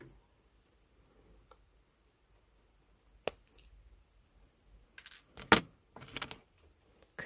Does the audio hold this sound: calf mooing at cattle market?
no